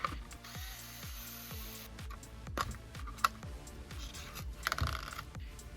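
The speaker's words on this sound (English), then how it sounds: "we will need to remove 4 screws." A small screwdriver works screws out of the back of a Sony ULT Field 3 speaker, producing a rapid train of ratcheting clicks and faint metallic ticks, close and quiet.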